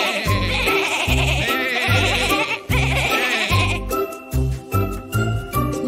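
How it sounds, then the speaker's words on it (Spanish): A string of rhythmic sheep bleats, about ten short repeated calls, sounds over a bright, jingling children's song accompaniment. "así bala la oveja"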